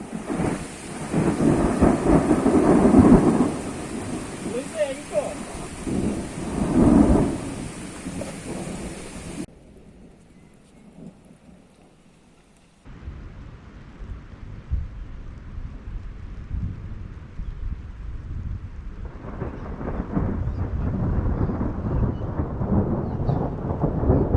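Heavy rain pours steadily with low rumbles of thunder rolling through, briefly dropping to a quieter patch before the downpour swells again.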